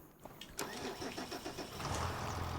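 A tractor engine in the Farming Simulator 25 video game cranks over with a rapid stuttering starter rhythm, then catches and settles into a steady, loud idle rumble.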